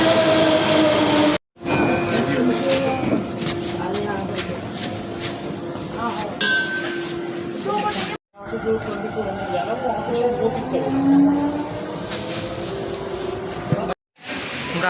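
Delhi Metro train on the Yellow Line, a rumbling rail ride with squeals and clatter broken by abrupt cuts, with people talking over it.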